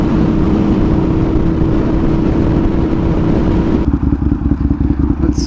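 An Aprilia RSV1000R sport bike's V-twin engine pulls hard and loud, a dense, steady growl that changes pitch near the end as the throttle shifts and the exhaust rumbles.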